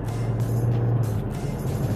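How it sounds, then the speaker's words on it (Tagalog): Nissan Pro-4x engine running under load on a test drive, a steady low rumble that holds close and continuous without clear rises in pitch. "Galitin natin yung makina."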